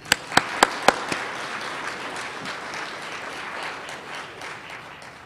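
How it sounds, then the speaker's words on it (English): Audience applause at a community service awards ceremony, opening with a few sharp separate claps that swell into a steady, full wash of clapping from a sizable crowd, continuing without talk. "Let's give them all a hand of applause."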